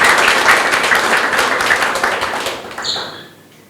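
Club branch leaders at a football club members' gathering clap for themselves in a dense burst of close applause that gradually thins and fades out.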